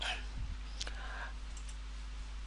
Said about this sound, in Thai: เมื่อ ต้องการ เริ่มอัปโหลดก็คลิกเมาส์ขวาแล้วก็เลือกดำเนินการคิวงาน